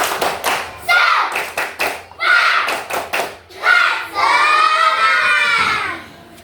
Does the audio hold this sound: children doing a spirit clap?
yes